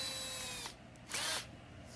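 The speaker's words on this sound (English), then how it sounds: "let's get this drilled out" Power drill boring a hole in steel resting on a piece of wood, two short bursts of high whining spin, the second louder, with brief pauses between.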